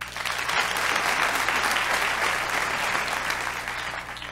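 Sustained audience applause at a comedy gala, a dense wash of clapping from a large crowd that holds steady for several seconds without speech.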